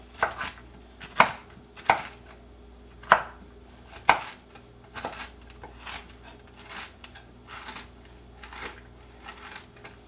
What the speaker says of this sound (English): then we're going to rough chop our pecans